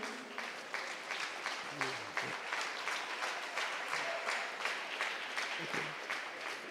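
An audience at a national debate championship final claps for standing patrons, a moderately quiet, rhythmic patter of hands with a faint pulse, and some murmured voices mixed underneath.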